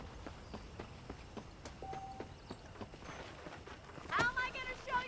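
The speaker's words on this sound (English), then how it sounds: "The horse over here." Horse hooves clip-clop at a walking pace on a ranch in the video game Red Dead Redemption, quiet and rhythmic, with a voice speaking and a brief louder burst near the end.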